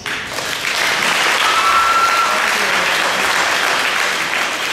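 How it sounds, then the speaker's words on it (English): A variety show audience breaks into loud, sustained clapping that holds steady for several seconds before easing slightly. "Micah over here needs a round of applause"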